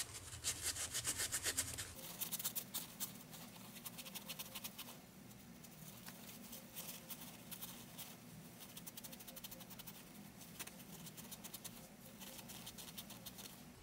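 A paper towel rubs against a rusted brass piece, giving a steady, close scratchy friction that continues without pause after a brief louder burst at the start.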